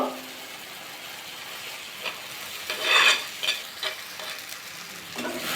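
An egg sizzling and frying in a hot pan of spice paste, with occasional scraping stirs and a louder burst of sizzle partway through.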